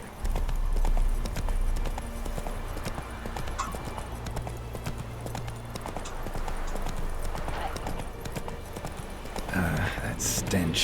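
A horse gallops along in The Witcher 3: Blood and Wine, its hooves clip-clopping in a steady, continuous rhythm close by, with a brief snort or whinny near the end.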